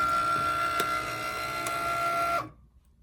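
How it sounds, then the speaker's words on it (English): A Cricut Maker cutting machine draws a snowman gift tag, giving a steady mechanical whir with faint ticking pulses. It runs continuously for over two seconds, then stops abruptly, leaving near silence. "what the machine is doing is it is actually drawing out the snowman for me"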